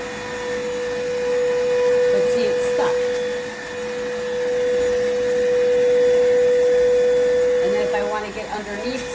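An iwoly C150 cordless stick vacuum with 18000Pa suction runs steadily close by, a high motor whine holding throughout with brief surges and rattles as the head moves.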